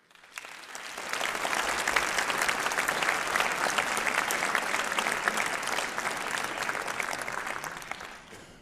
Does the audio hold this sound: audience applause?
yes